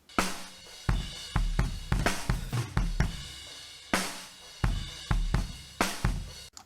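Low end from a kick-snare microphone on an alternative rock kit brings out a boomy, thumping drum groove of repeated close hits with deep resonant tails, played alone with no voices.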